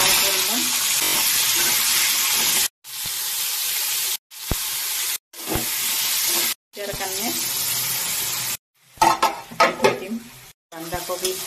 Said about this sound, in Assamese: সয়াবিনটো ফ্ৰাই হৈ গৈছে